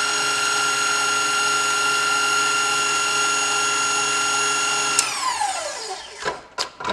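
An electric hand mixer runs at steady high speed through keto bread batter, a constant whirring motor tone that winds down near the end, followed by a few brief knocks and scrapes.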